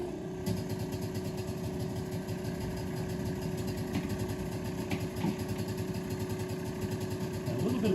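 Vacuum pump running steadily in a workshop while it draws a vacuum to seal a cylinder, giving a constant faint mechanical hum and rattle with no clear changes.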